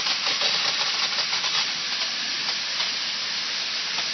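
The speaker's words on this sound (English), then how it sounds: "when the electric current stops, which we simulate by that, well, the sprays turn on" An automatic soil-moisture irrigator's water sprays switch on, giving a continuous, fairly close hissing spray that stays steady throughout.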